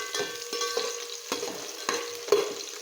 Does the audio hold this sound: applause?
no